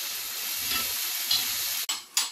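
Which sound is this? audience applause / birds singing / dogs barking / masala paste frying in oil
masala paste frying in oil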